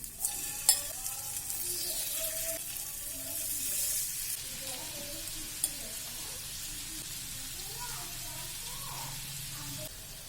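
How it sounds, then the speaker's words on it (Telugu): Marinated chicken pieces fry in oil in a pan for restaurant-style chicken tikka, giving a steady, fairly quiet sizzle with faint clinks and a few light knocks scattered throughout. No voices are heard. "ఇప్పుడు మ్యారినేట్ చేసిన చికెన్ పీసెస్ దీంట్లో వేసుకొని కుక్ చేసుకోవాలి."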